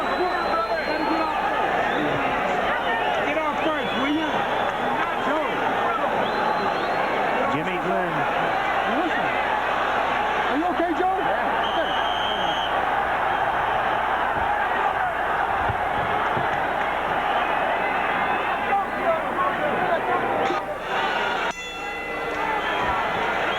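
An arena crowd at a boxing bout between Julio Cesar Chavez and Joey Gamache roars in a sustained, loud wash of cheering and shouting, with a commentator talking over the din throughout.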